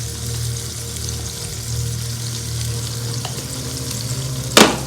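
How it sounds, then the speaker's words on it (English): Chili and turmeric paste fries in a pan with a loud, steady sizzle and occasional stirring scrapes, and a sharp clatter near the end; no one speaks. "I'm going to add about 3 tablespoons of chili paste."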